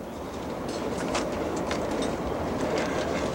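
A passenger train crossing Canada rolls along with a steady broad rumble and soft rhythmic rail clicks, heard from inside the carriage, continuous and moderately loud without talk.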